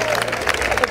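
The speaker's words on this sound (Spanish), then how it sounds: "Y un gran aplauso de la comunidad orientadora" Audience at an orienteering championship awards ceremony in Guadix applauding, a dense, steady wash of clapping with crowd murmur throughout the short burst.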